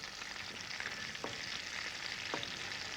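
Fish such as salmon and sole gently simmering in a pan, giving a steady soft bubbling hiss with a few faint pops and clicks, close and continuous, with no talking.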